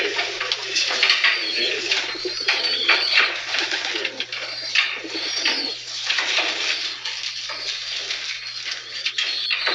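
Many racing pigeons coo and flutter together nearby, a dense, continuous murmur of soft calls with occasional sharper chirps.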